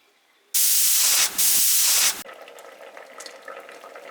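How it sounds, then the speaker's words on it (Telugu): A pressure cooker holding vegetable pieces for wedding-style sambar lets out a sharp burst of hissing steam that pauses briefly, comes back, and then cuts off into quieter kitchen background. "ఇప్పుడు ఈ కూరగాయ ముక్కలన్నీ 2 విజిల్ వేయించుకుంటే కుక్కర్లో సరిపోతుందండి."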